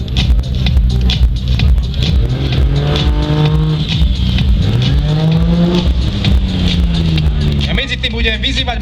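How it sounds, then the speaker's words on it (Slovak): A Toyota Supra 3-liter turbo built for sprint racing accelerates loudly at an event in Trenčín, its engine note sweeping up through gears, with a public-address announcer talking over it. "Toyota Supra upravená na šprinty."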